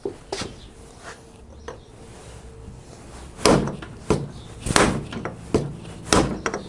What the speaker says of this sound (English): I'm getting a bigger hammer.